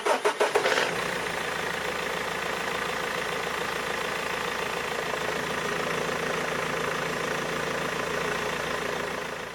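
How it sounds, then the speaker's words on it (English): A BMW E46 diesel engine cranks briefly and catches, then settles into a steady, close idle with an even mechanical rumble and clatter that holds without change. "You can actually hear the engine when it's getting pulled"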